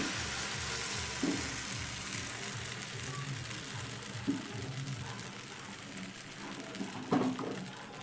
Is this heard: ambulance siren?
no